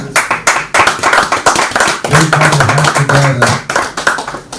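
An audience at a live-streamed event gives a round of applause, loud, close, rhythmic clapping that continues throughout with a brief voice partway through.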